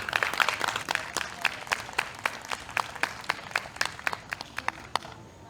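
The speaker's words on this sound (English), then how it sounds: "So please give him a round of applause." An audience at a community Hispanic Heritage Month event applauds a pastor being introduced, with dense clapping that thins into scattered, distinct claps before fading out.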